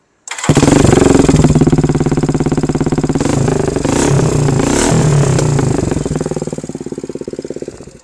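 A Suzuki GR150 motorcycle fitted with a swapped-in GN250 engine and a loud aftermarket exhaust fires up close by. It settles into a rapid, thumping, clattery idle with a few blips of revving before easing off.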